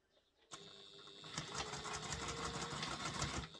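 A sewing machine stitches a seam through several thick layers of a baby diaper bag, starting abruptly and then running fast and steady at close range with no talk.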